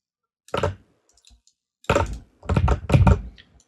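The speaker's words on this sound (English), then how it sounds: "I'm typing so poorly today." Keystrokes on a computer keyboard while entering code, in a short burst followed by denser rapid clusters, close and fairly loud with no talking.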